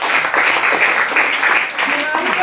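An audience claps in a dense, continuous wash of applause, loud and close, with voices mixed into the clapping throughout.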